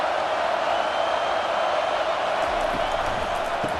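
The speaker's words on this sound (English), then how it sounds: "this crowd trying to help keep them there" Continuous roar of a stadium crowd in the video game College Football 25 during a Texas vs Texas A&M matchup, a dense, steady wash of cheering and noise that sits under commentary.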